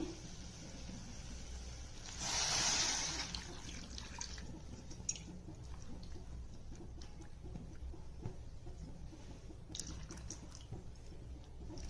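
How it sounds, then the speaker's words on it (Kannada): Water is poured into a pot of lentils with tamarind and tomato, a brief splashing gush of about a second in an otherwise quiet kitchen, followed by a few faint drips and small knocks. "ನೀರು ಹಾಕ್ತೀನಿ"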